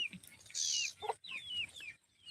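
A chicken clucks and squawks nearby in a few short, uneven calls, with brief pauses between them and no talking.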